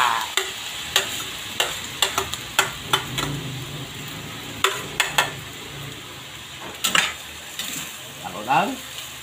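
Bean sprouts being stirred into Korean-style noodles frying in a pan, with repeated sharp utensil clacks against the pan in an irregular rhythm over a low sizzle, close and clear.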